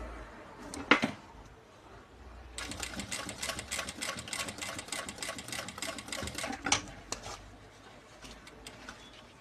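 A sewing machine stitching fabric: a couple of isolated clicks, then a fast, even run of rattling needle strokes for several seconds, followed by a few more scattered taps, close and moderately quiet.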